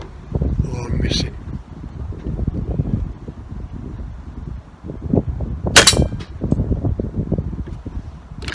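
Rifle shots at an outdoor shooting range, comparing single-loader and magazine feeding, ring out as sharp reports with a metallic clang of a hit target, under steady wind noise and near-continuous talk.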